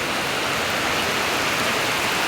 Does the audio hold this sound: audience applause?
no